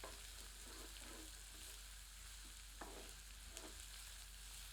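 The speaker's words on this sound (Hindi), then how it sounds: "इसे मध्यम आंच पर सुनहरा होने तक भूनते हैं।" Onions fry over medium heat toward golden in a pan for dhaba-style baingan bharta, a quiet continuous sizzle with scattered pops and a couple of stirring scrapes.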